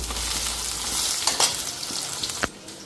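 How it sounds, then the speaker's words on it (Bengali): Jackfruit seeds fry in a pan with a steady crackling hiss, while a spatula scrapes and clinks a few times before the sizzle suddenly drops away near the end. "আর এই যে কাঁঠাল বিচি ভাজছি"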